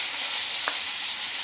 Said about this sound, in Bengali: ইলিশ মাছ ভাজাটা বসা দিলাম